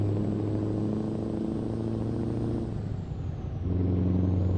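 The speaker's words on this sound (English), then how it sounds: "A lot of traffic going the other way," Steady road traffic in the American Truck Simulator video game, a loud continuous engine drone of trucks and cars passing close by with a brief dip around the third second, no talk.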